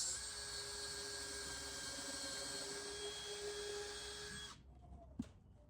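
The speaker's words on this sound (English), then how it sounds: "re-drilling my holes." A drill re-drills screw holes in scrap wood, a steady faint high-pitched whirring that cuts off after several seconds, followed by a brief sharp knock.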